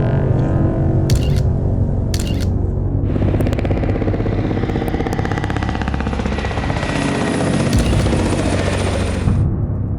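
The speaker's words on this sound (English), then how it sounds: "the infamous black helicopters appeared, flying very close to his house" A black helicopter flies low and close over a house, its loud, steady rotor and engine roar filling the whole stretch, with a couple of brief sharp clicks near the start.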